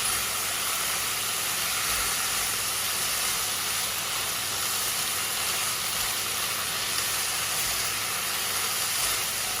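Steak stir-fried with broccoli and mushrooms in a beef stir fry sizzles as a steady, loud broadband hiss that holds evenly throughout with no talk.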